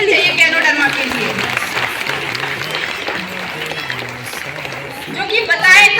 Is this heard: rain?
no